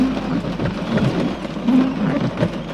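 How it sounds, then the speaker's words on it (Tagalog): Dense, steady rainfall hisses and patters close by, with low rumbling underneath throughout. "Inaabot tayo ng ulan."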